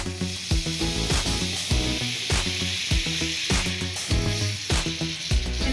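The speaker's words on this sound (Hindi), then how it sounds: "जिस तवे पर हमने आलू टिक्की फ्राई की थी फ्रेंड्स इस तरह से इसके अंदर वाली साइड को आपको थोड़ा सा बटर डालते हुए" Butter sizzling on a hot griddle that was used earlier for frying aloo tikki, as the inner side of a burger bun toasts; a steady, loud frying hiss with regular scraping or stirring beats, no talk.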